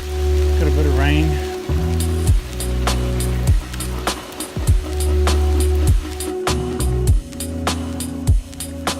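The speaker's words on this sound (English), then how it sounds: "Got a bit of rain." Rain drumming steadily on a surface along the Appalachian Trail, with sharp irregular drops and splashes landing close by; a brief voice-like sound rises near the start.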